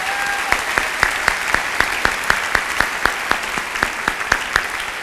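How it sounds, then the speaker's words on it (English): A gathering at an opening day presentation claps for award winners, a steady wash of applause with a few sharp, regularly spaced claps standing out close by. "Let's give one final round of applause for all of these award winners."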